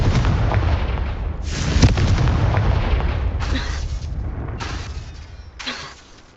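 A Confringo fire spell cast in the Hogwarts Legacy game, producing heavy booming blasts and bursts, loud and close, with several explosive hits spread over a few seconds against ongoing rumbling game noise.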